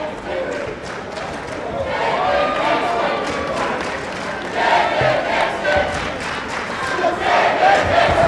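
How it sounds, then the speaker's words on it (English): A basketball crowd at a 2007 Division III men's national championship game between Amherst College and Virginia Wesleyan chants in loud rhythmic unison, sustained and reverberant, with scattered cheering and a commentator talking over it. "you're hearing the crowd behind us. They're chanting Coach's name"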